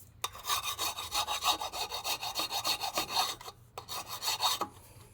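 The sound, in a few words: lightly rubbing down a brake disc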